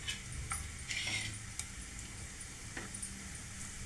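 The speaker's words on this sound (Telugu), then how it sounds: "అవి మంచిగా ఫ్రై అవ్వాలి." Cumin, mustard seeds and urad dal frying in hot oil make a faint, quiet sizzle, with scattered small pops and crackles and a light clink of a utensil against the pan.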